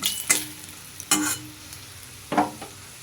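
Green chili goes into hot oil as a tempering for a Bengali fish curry. Three short bursts of sizzling and stirring come at irregular intervals, with quiet gaps between them, and no one speaks.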